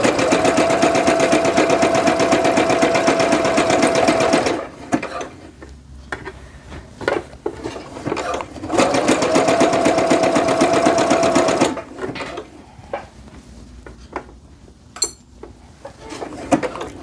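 A sewing machine runs a short zigzag stitch through jogger fabric in two loud sustained runs of about four seconds each, with quieter handling clicks and rustles of the cloth between them.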